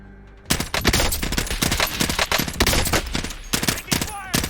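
Video game gunfire crackles in rapid, dense bursts of close, loud shots that start abruptly and keep going, with short gaps between volleys.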